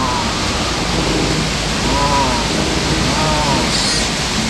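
Heavy rain drums loudly and steadily on a car driving the Bekasi toll road near the Pondok Gede exit, a dense roaring wash with a faint voice talking underneath.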